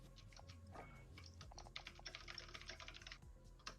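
Fast typing on a loud computer keyboard, a dense run of sharp key clacks close to the mic, steady rhythm with brief pauses, no talk over it.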